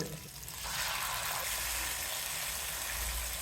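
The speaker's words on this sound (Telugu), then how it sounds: "మ్యారినేషన్ చేసిన చేప ముక్కల్ని పెట్టేద్దాం వేయించుకుంటాను" Marinated fish pieces frying in a spoonful of oil for a fish gravy make a steady, close sizzling hiss that swells after the first moment and then holds, with no talk over it.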